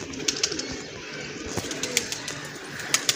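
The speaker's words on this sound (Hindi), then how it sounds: "सामने ये कबूतर बैठा हुआ वो देख लें" Pigeons coo softly beside a trap net outdoors, a few low calls mixed with sharp clicks and rustles nearby.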